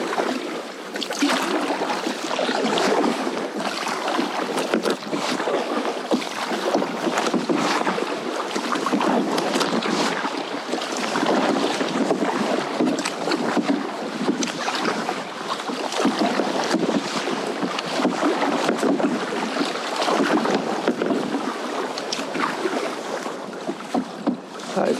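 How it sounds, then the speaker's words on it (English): A large boat passes near a kayak at sea off East Lothian, with a steady broadband wash of engine and water noise mixed with wind buffeting, continuous and fairly loud throughout. "That is a big boat."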